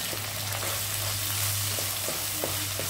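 Capsicum frying in a pan gives a steady, close sizzle, with a few faint scrapes as it is stirred; no voices.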